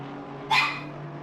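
A small dog gives one sharp, close bark, loud and brief, over a steady low background hum with no talking.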